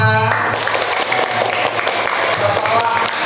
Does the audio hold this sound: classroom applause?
yes